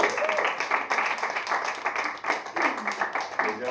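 An audience applauding a performer: dense, sustained clapping from many hands at close range, steady for the whole stretch, with no talking over it.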